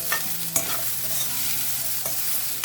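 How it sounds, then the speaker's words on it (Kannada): Spices sizzle and spit as a tempering fries in one pan beside cauliflower frying in another. A dense, continuous crackle carries a few sharp utensil knocks, and no one speaks. "ಒಂದು ಕಡೆ ಫ್ರೈ ಮಾಡ್ಕೋಬೋದು ಒಂದು ಕಡೆ ನಾವು ಈ ಥರ ಒಗ್ಗರಣೆನ ಹಾಕೋಬಹುದು"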